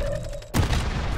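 Gunfire in the video game Resurgence erupts as a sudden loud boom after a moment of quieter hum, then continues as a dense, sustained barrage of close shots.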